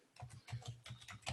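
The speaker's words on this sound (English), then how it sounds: "And then you would just start typing it in." Faint, quick keystrokes on a computer keyboard tap out in an uneven rhythm of about eight or nine clicks, close and alone without talk.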